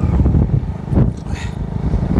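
A motorcycle rides along a village road toward the pond, its engine rumbling close by with rising and falling revs and wind noise for a couple of seconds.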